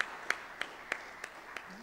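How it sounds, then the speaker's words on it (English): A small audience at a physics workshop on resummation and factorization gives sparse, evenly spaced claps, about six faint hand claps sounding thin and distant in a quiet room. "Some claps from the audience"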